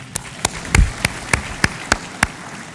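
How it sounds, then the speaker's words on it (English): At the opening ceremony of the 4th World Coffee Conference in 2016, a handful of slow, evenly spaced claps ring out, about eight distinct sharp hits rather than a dense wave of audience applause. "Please welcome yourselves with another round of applause."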